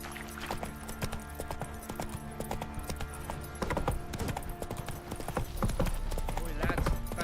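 Rapid rhythmic hoofbeats of a galloping horse in the video game The Witcher 3: Wild Hunt, continuous and fairly loud, over a low rumbling background.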